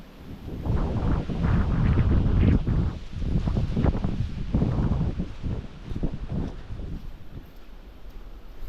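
Strong wind buffets the microphone outdoors near a jackfruit harvest area, coming in loud roaring gusts that rise and fall before easing off toward the end.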